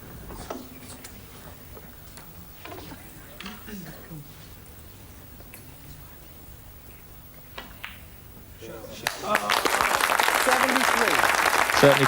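A snooker crowd breaks into sustained applause for a young Ronnie O'Sullivan's break in 1990, the clapping swelling loudly near the end after a quiet stretch with faint ball clicks.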